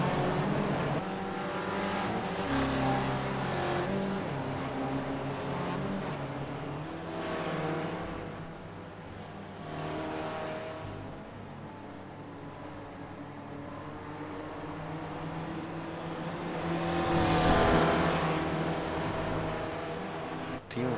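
Race cars in an iRacing sim race at Oulton Park Island battle for tenth place, engines droning steadily throughout with rising revs and a louder surge near the end, no talk heard.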